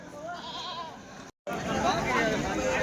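Goats and bucks bleat at the Kadiri weekly livestock market, with several wavering calls against a busy crowd murmur, cut by a brief dropout before the noise resumes.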